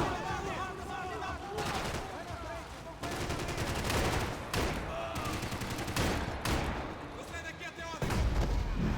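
Heavy gunfire and grenade blasts crowd a Max Payne 3 firefight, loud rolling bursts and booms repeating through the stretch with little pause, and someone speaks over the din.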